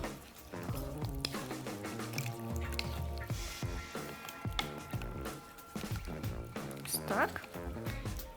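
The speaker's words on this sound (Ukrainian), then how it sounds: "Замішуємо нашу кашу-малашу з паперу." Wet paper pulp being squished and mixed by hand, with wet squelching and dripping sounds close up, while someone talks over it.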